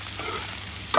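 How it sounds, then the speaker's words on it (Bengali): Kachki fish sizzling with salt in a hot pan, a short steady crackle of frying with a brief louder scrape or stir right at the end, no voices. "কষিয়ে না সরি ভেজে নিব"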